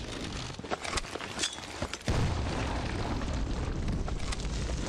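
Fire grenades bursting in the survival horror game Heaven Dust 2, a string of sharp pops and crackles that gives way to a sustained, roaring fiery rumble, loud and close, with no talking.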